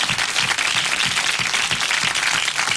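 A studio audience applauds a quiz contestant from Courbevoie, a full, steady wall of clapping close and even from start to finish.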